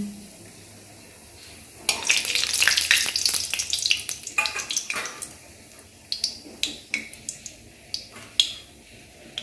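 Cumin seeds and dried red chili hit hot oil with a sudden loud crackling sizzle that flares, then settles into bursts of spitting pops and stirring, no one talking.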